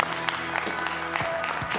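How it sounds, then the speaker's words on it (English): Applause rises from a crowd at an innovation keynote event, mixed with music and a few voices, continuous and fairly loud across the moment. "Please give them a giant round of applause."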